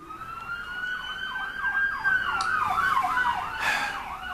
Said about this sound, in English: I get to hear sirens and everything.